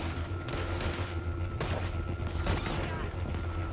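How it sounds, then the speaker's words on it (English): Video game gunfight with scattered gunshots and booming bursts over a constant mid-level hum of wind and ambience, several sharp cracks clustered across a few seconds. "Another gunfight!"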